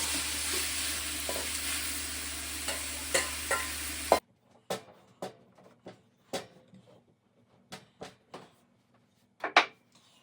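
A beef roti hits a hot pan with neutral oil, giving a loud, dense sizzle for about four seconds. It then cuts to near silence, leaving scattered light taps and clicks.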